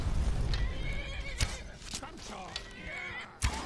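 A horse in the video game Skyrim neighs and whinnies several times, with hoof clip-clops and an occasional thud, all over a busy in-game background.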